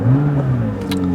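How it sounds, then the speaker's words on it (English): A McLaren 570GT engine catches at push-button start and roars up loudly nearby, then settles into a steady idle with a brief higher-pitched whir near the end. "You got that typical modern car roar right at the start"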